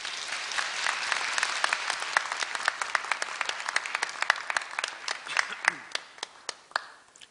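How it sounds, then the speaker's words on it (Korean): Sustained audience applause at a Korea University graduation ceremony as a film director is welcomed to the stage. Dense, steady clapping from a large crowd thins into scattered claps toward the end. "큰 박수로 환영해 주시기 바랍니다"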